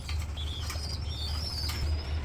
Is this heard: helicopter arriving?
no